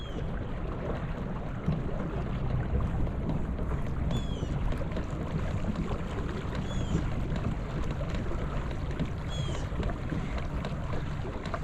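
A lightweight fishing kayak is paddled hard at sprint speed on open water, with steady water rush and wind noise plus a few brief high squeaks, close to the listener and with no talk.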